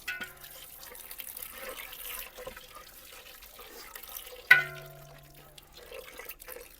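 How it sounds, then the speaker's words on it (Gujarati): Water tipped into a pan of fish curry with gravy already cooked down, village style; a loud splash around the middle sets off a short trickling pour over low kitchen background noise. "હવે આપણે પાણી નાખી દેશું અંદર."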